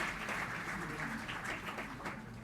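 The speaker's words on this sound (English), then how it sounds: "I believe we should applaud that decision that was taken." Guests clap at the official launch ceremony for World Environment Day, a short, fairly soft spell of scattered applause in a large room with a voice speaking faintly beneath it.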